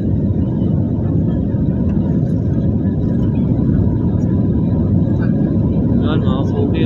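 Steady, loud broadband rumble of an airplane in flight fills the cabin without a break, with faint voices over the drone near the end.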